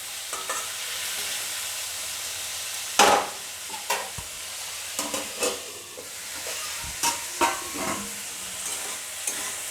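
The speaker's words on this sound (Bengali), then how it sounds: "বন্ধুরা, কাঁঠালের এঁচোড়টাকে আমি একটু ঢেকে ঢেকে ভেজে নেব।" Unripe jackfruit sizzles steadily in hot oil in a pan, with intermittent clacks and scrapes of a spatula stirring over the continuous frying hiss.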